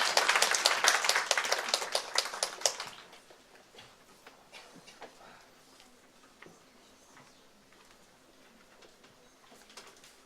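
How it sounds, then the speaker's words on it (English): A seminar audience gives a loud burst of rapid clapping that lasts a few seconds, then thins to sparse, faint claps over a quiet room. "Can we all invite every speaker with a round of applause?"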